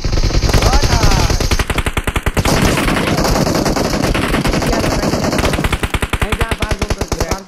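Rapid automatic gunfire from the Free Fire mobile battle royale, played in a tournament match on an iPhone 12: loud, steady trains of shots run nearly the whole time, with brief gaps and layered bursts.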